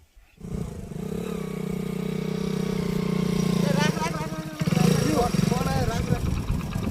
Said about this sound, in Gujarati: બંધ કર બાઈક બંધ કર